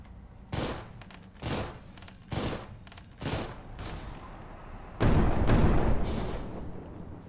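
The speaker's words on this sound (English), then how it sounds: "Those missiles have like a secondary explosion." Missiles in the Armored Core video game hit and then detonate again, a series of heavy booming blasts roughly every second, ending in a longer rumbling barrage, with no talking.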